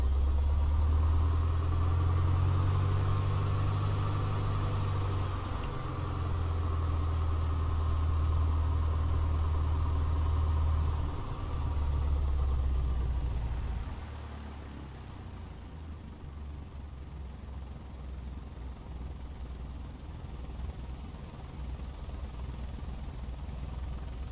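A PA-38 Tomahawk light aircraft's engine drones steadily while taxiing in Microsoft Flight Simulator, a low idling hum that drops to a quieter rumble partway through.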